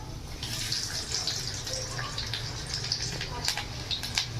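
Chopped garlic hits hot oil, with browned ginger already in the pan, for tadka dal, producing a steady, close hissing sizzle with crackling pops that carries on without letting up.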